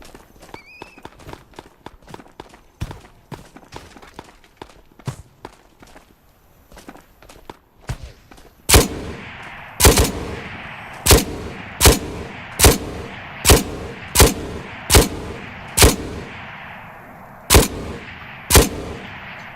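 Gunfire from a new gun in the VR shooter Ghosts of Tabor, heard as a run of loud, sharp single shots fired at an even pace, roughly one per second, after softer clicks and footstep-like tapping.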